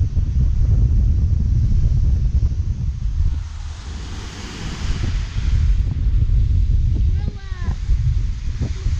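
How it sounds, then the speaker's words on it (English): Loud wind at the San Diego Zoo rumbles and buffets the microphone throughout, with gusts rising and falling and a brief burst of a higher voice near the end. "Oh my god, it's really windy."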